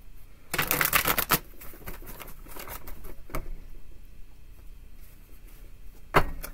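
Tarot cards being shuffled, with a dense riffling burst early on followed by lighter, scattered flicks and taps, and a final sharp snap near the end.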